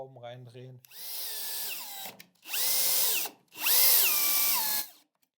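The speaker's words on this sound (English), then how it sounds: "I have to insert in my screws now." A cordless drill drives screws into a Hettich FurnSpin furniture panel in three sustained whirring runs, each rising in pitch as it spins up and slowing as the screw seats, close and loud after a brief voice at the start.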